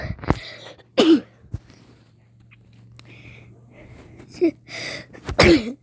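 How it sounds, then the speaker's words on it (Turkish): Several sharp sneezes burst out one after another at close range, separated by quiet gaps with faint breathing and throat sounds, and no talking. "sürekli hapşırıyorum"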